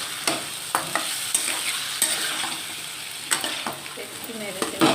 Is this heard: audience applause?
no